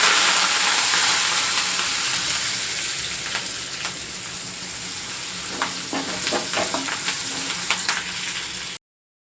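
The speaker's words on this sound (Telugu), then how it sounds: "ఈ పసుపు కూడా ఆయిల్లోనే ఫ్రై అయిపోతుంది" Turmeric and a handful of curry leaves frying in hot oil for a gongura pickle tempering make a loud, continuous sizzle that eases slightly, then fills with rapid crackling pops and spatters before cutting off; no voices.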